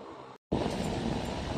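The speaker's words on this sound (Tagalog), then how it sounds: "Pakinggan natin kung maririnig natin ang ikot ng electric fan." Electric fan running, captured with no external microphone: a steady broadband whirr fills the clip, broken by a brief silent dropout before resuming loud and constant.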